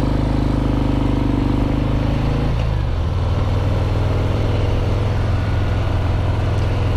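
A 2020 Harley-Davidson FXDR motorcycle being ridden, its engine droning steadily with a pitch drop partway through as it shifts, loud and continuous with wind rush and no talk.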